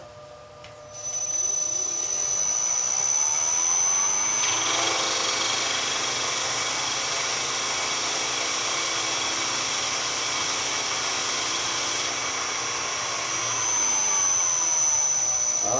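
A DeWalt power drill spins to start a friction fire, building from a low rumble into a loud, steady high-pitched whir that holds for about ten seconds before easing off, with no talking over it.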